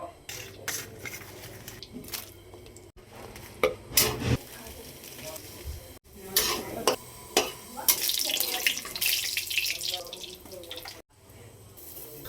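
Green chillies fry in a pan with broken, uneven sizzling, loud at times and mixed with bursts of stirring, clattering and watery sounds across the whole stretch.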